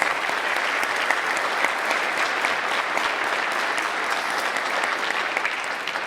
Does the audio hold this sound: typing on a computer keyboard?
no